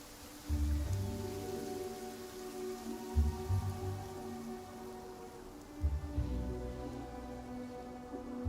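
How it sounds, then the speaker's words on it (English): Steady rain falling in the Genshin Impact video game, a continuous even patter at moderate loudness, with low thuds and a tonal hum beneath and no talk. "The sound of the rain scares them away, but once it stops, they're yours for the taking."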